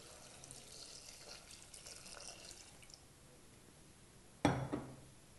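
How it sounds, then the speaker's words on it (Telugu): Water poured into a pot of chopped bottle gourd and toor dal, a faint trickle followed by a sudden loud splash near the end. "ఈ రెండింటికి తగినన్ని నీళ్లు పోసుకోవాలి."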